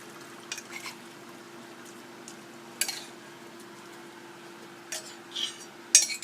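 A spoon stirs miso into vegan, oil-free soup in a bowl, making sparse, faint scraping clinks against the bowl at irregular intervals over a quiet background.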